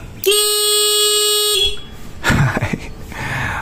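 A loud motorcycle horn blares in one steady toot for over a second, followed by engine rumble and clicking noises.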